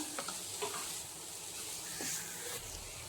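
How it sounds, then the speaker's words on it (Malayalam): A mango mixture with crushed cardamom, cooked in a pan for ilayappam, is stirred, giving a soft, steady sizzle with a few gentle scraping strokes. Nobody speaks. "എന്നിട്ടൊന്നുകൂടി ഒന്ന് ഇളക്കി കൊടുക്കാം."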